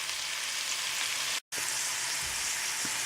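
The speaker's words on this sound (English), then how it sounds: "I'm going to saute these for about 2 minutes" Sliced peeled apple and raisins sauté in a pan on the stove, a steady close sizzle filling the whole stretch, broken by one abrupt silent gap and a couple of faint low knocks near the end.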